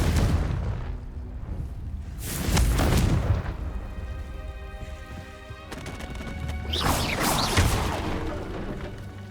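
In Hogwarts Legacy, a Confringo blasting spell goes off in a pair of loud, rumbling bursts with crashing debris, separated by a ringing magical shimmer.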